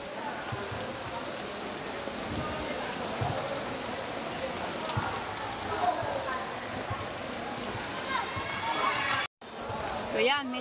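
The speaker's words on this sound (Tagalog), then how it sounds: "medyo po tumila-tila-tila na ang ulan." Heavy rain falls outdoors at Bucana, a dense, even hiss that continues without letup, broken by a brief gap near the end, and then picks up again.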